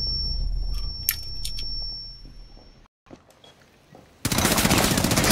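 Gunfire in a Rainbow Six Siege team deathmatch, heard as sharp game weapon bursts over a tinny in-game tone, then a short gap before a loud dense burst of automatic fire at the end.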